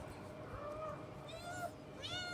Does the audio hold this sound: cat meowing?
yes